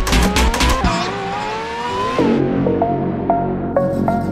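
Racing car engine in the Roblox game Vehicle Legends, a hypercar topping 300 mph, revving hard through rising gear pulls with brief shift drops, then settling into short repeated throttle blips at a loud, close level.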